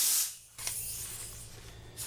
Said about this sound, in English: stick air in this other hole where the original line went in.